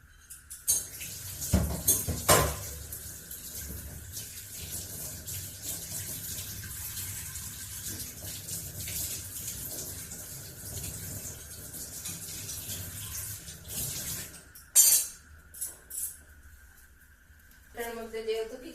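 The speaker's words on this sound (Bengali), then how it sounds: "বসো, আমি বটিটা ধুয়ে নিয়ে আসি।" Water runs steadily from a tap while a bonti cutting blade is washed, with occasional metallic clinks and knocks and faint voices in the background.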